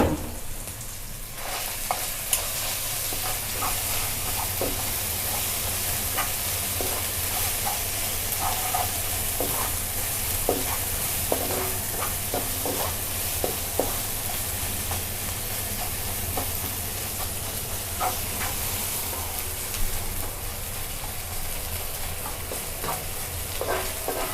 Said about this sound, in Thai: พอใส่ผัดกะปิให้หอมนะคะ